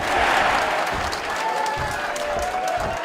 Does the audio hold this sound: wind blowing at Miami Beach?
no